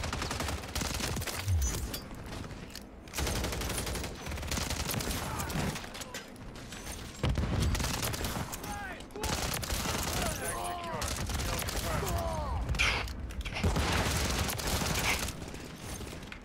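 Rapid UMP45 submachine gun fire in Call of Duty: Modern Warfare 3, dense bursts of game gunfire running nearly continuously with players talking over it.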